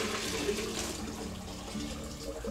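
Water pours steadily into a cooking pot for atole, a continuous broadband rush and splash lasting throughout, close and fairly loud, with no talking.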